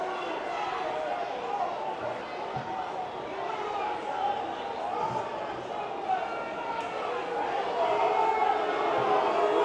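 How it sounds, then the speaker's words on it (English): A rugby league crowd at Widnes Vikings v Oldham roars continuously from the stands, a broad, sustained wash of voices that swells louder toward the end. "You can hear what the crowd think of this."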